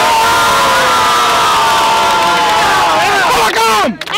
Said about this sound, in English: Everybody clap for Skinny.